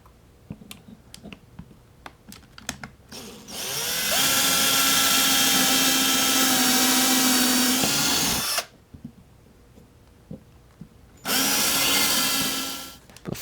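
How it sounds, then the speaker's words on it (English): A power drill bores holes in a doorbell cover: two loud sustained whining runs, the first about four seconds and the second shorter, separated by quiet handling clicks. "So we're going to have to drill some holes"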